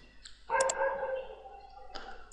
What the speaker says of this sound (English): hey dog, can you stop barking so I can continue with my tutorial?